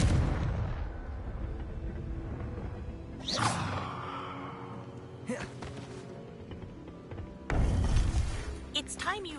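Fiery Confringo spell blasts in a Harry Potter video game, three booming explosive bursts with whooshing tails spaced a few seconds apart, loud over a low ambient background.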